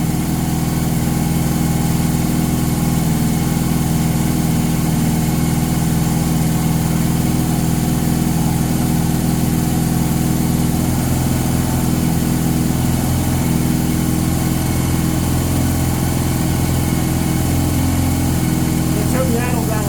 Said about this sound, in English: here's the engine starting to warm up